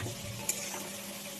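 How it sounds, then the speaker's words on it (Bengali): Potatoes fry in oil in a wok, giving a soft, steady sizzle with a faint light tick partway through. "আলুগুলো লাল লাল করে ভেজে নিয়েছি, এবার নামিয়ে নেব।"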